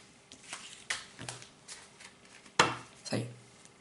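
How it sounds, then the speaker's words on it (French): A deck of playing cards is shuffled off camera for a magic prediction trick, several short sharp riffling bursts with brief pauses between them, close and moderately quiet, with no talking. "j'ai un spectateur hors caméra qui va mélanger le paquet"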